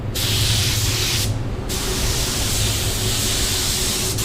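A paint spray gun set around 19–20 psi lays down a coat with a loud, continuous close-up hiss. It cuts out once briefly between two long passes.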